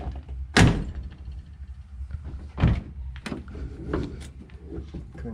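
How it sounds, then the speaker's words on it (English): A 1961 Pontiac Laurentian's car door shuts with two solid thunks about two seconds apart, followed by smaller knocks and rattles from handling the door, heard fairly close in a quiet space. "But the door still closes perfectly"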